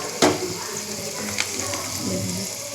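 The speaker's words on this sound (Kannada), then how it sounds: "ಇದನ್ನೆಲ್ಲ ಚೆನ್ನಾಗಿ ಫ್ರೈ ಮಾಡ್ಕೋಬೇಕು." Onion and garlic frying in oil in a pan, a steady close sizzle with a sharp crackle near the start and a few stirring scrapes.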